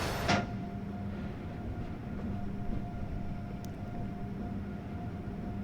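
An Amtrak Acela Express train running near Boston South Station in the Train Sim World game, a steady low rumble of rolling stock and motors with a faint tonal hum, starting with a brief click.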